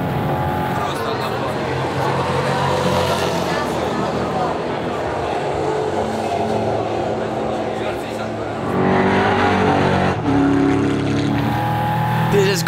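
A EuroNASCAR race car at Vallelunga in a racing video game, its engine droning steadily with rising and falling revs, while someone talks over it throughout.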